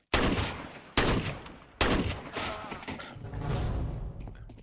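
Bursts of rapid gunfire in the Counter-Strike: Global Offensive video game, three loud, close volleys in quick succession, each fading into a rattling tail, with no talking.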